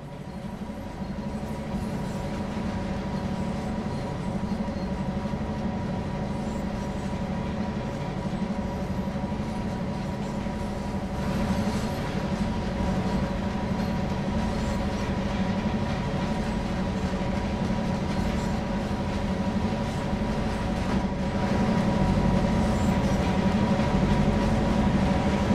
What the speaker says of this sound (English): Currently aboard a GP9RM diesel locomotive.